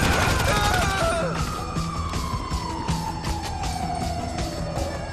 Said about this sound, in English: Oh, it's the ambulance!